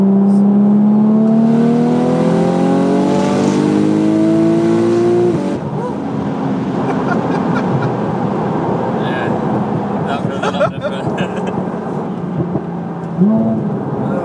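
Porsche 991.2 Turbo S in map 2 accelerating hard, a loud rising engine and turbo whine climbing in pitch for several seconds, then a dense roaring rush of speed with a brief rev blip near the end.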